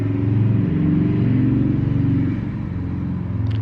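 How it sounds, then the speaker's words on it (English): Cars pass outside an open window, producing a steady, loud low rumble of traffic that swells and fades with no speech over it. "the window is open and there's cars and construction work"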